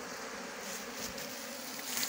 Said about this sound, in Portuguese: Olha aí as abelhas, coloquei um resto de cera.